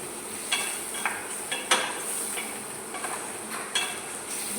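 Sour yogurt stirred in a cooking pot, a low steady hiss underneath a few spaced utensil scrapes and clinks against the pot, fairly quiet and close.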